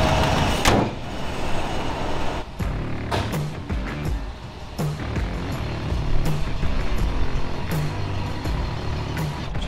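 An old Ford wrecker tow truck rumbles nearby as it pulls away, its low engine drone steady beneath scattered clunks and rattles.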